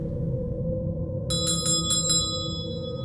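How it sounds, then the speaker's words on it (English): Old hospital nurse call bells ring in a quick burst of about five bright metallic strikes, sounding over a steady low hum inside a historic octagonal hall. "So these bells, back in the old days when this was a hospital, they were used to summon a nurse"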